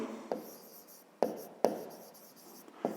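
A hand writes a math expression, with a pen tapping and scratching on paper in a quiet room: four distinct strokes that each start with a crisp tap and fade into a soft scratch.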